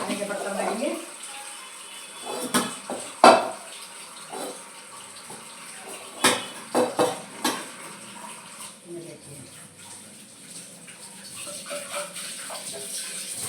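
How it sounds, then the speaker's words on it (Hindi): Dishes, pots and utensils being washed under a running tap at a home kitchen sink, with steady water flow and scattered sharp clatters and knocks of utensils, a few louder clanks standing out, and someone talking at times. "जब तक मैं बर्तन सब साफ करती रहती हूँ हाथ के हाथ। मेरे सब बर्तन साफ हो जाएंगे"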